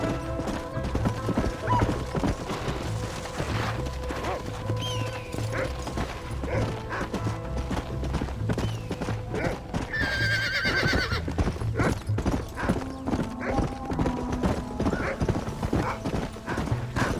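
Horse galloping in the Western video game Red Dead Redemption, steady rhythmic hoofbeats throughout with a loud neigh partway through, plus faint rattling tack and game sounds over a continuous bed.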